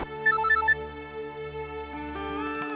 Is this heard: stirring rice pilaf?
no